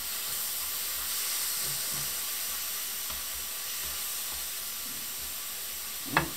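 Finely chopped onion frying in oil over high heat for clams a la marinera, a steady close sizzle throughout with a faint stir and one brief clatter near the end, no talking.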